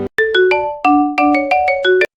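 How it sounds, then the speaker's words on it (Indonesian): A mobile phone ringtone plays a bright, melodic sequence of short electronic notes, loud and close, repeating in a quick rising and falling pattern with nothing else heard. "tiba-tiba ponsel Kang Mingyung berdering"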